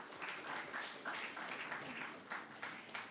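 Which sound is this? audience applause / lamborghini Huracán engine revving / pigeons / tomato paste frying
audience applause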